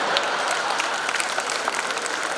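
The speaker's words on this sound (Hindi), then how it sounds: "थोड़ा तालियां हो गया" At a satirical poetry recital, an audience applauds in a steady, sustained wash of many hands clapping that stays even and fairly loud from start to finish.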